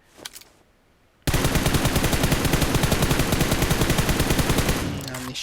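An M4 rifle in PUBG Mobile fires a long, sustained automatic burst of rapid, evenly spaced loud shots after a brief quiet pause, preceded by a short faint clatter at the start.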